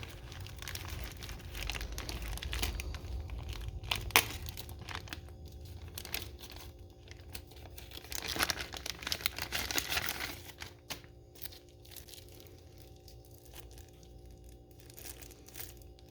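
A Walmart Damascus steel knife being pulled from its plastic packaging: close crinkling and crackling of plastic with a few sharp tearing rustles, louder in the first half and quieter toward the end, with no talking.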